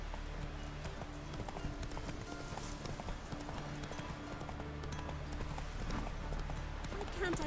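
Horse hooves clip-clop at a steady walking rhythm in The Witcher 3 video game, with game ambience and sparse background voices behind the continuous, moderately loud footfalls.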